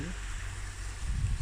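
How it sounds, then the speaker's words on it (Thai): Continuous rushing water, like a waterfall or fast stream, fills the short clip with a steady hiss and a low rumble underneath. "เสียงน้ำตก"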